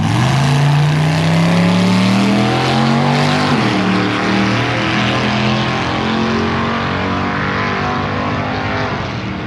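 A loud Dodge drag racing car roars past with an open front-exit exhaust, its engine note rising then droning steadily at full throttle.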